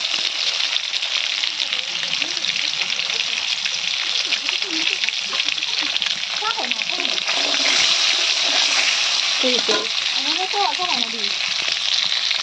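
Eggs frying in a pan give a steady, loud sizzle that runs throughout, with someone talking over it in places.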